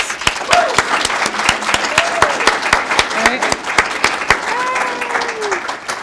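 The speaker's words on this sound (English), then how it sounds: "Please join me in a round of applause." Audience applause at a probation officer academy graduation ceremony, loud continuous clapping from a crowd, with faint voices and a few whoops or calls rising above the steady patter.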